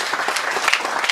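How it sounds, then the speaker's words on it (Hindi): Audience applause at a Hindi comedy poetry gathering during Holi, a steady, close, busy patter of many hands clapping with no voice on top. "आगे से पीछे तक लेकर हाथ उठाकर बजाओ ताली"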